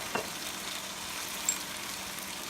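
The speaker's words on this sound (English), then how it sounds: "Now we'll add 2 tablespoons of white wine" Steady soft sizzle of white wine hitting a chicken and mushroom stir-fry in a hot pan, faint and continuous with a couple of small sharp pops.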